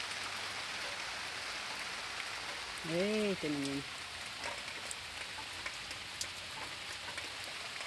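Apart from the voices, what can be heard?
rain falling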